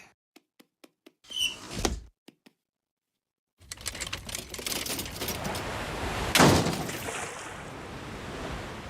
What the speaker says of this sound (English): Can you open the sliding door?